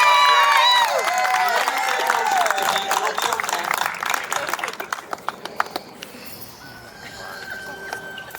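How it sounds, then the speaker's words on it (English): Applause and scattered cheering from a gathered crowd welcoming someone up to speak, with voices and bright shouts at first, then loose, separate claps thinning out over several seconds. "Let's give a big round of applause for Spencer."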